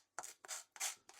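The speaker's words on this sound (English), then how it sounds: "we're just going to put a little butter on the toast" Butter scraped across a slice of toast with a knife: four close, raspy strokes in quick succession, each a short dry rub that starts sharply and fades, with brief pauses between.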